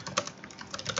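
Rapid typing on a computer keyboard, steady clicking keystrokes close by with no voices.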